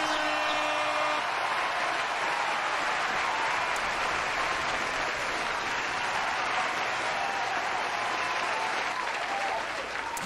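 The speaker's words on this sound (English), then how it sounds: "I want to applaud that." Sustained applause from a crowd fills the whole stretch, dense and steady clapping at close to even loudness with no pauses, slightly easing toward the end.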